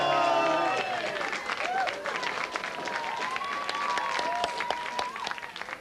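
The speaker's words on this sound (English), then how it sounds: "Round of applause, well, come on, Benny the Ball!" A Liverpool audience gives loud applause with a dense wash of clapping and some cheering, steady throughout with a whistle-like tone drifting in the middle.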